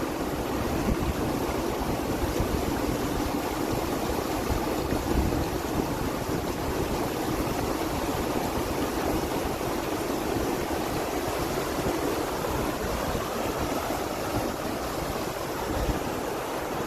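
Spring water flowing steadily at Mammoth Spring State Park, a continuous broadband rush that stays loud and even for the whole stretch, with some wind buffeting the microphone and no talking.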